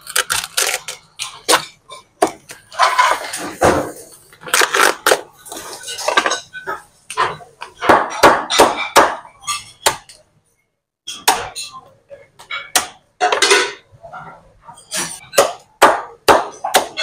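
A boiled lobster is cut on a board in a kitchen with sharp, irregular knife chops and cracks in quick bursts separated by short pauses, close and fairly loud, with no one speaking.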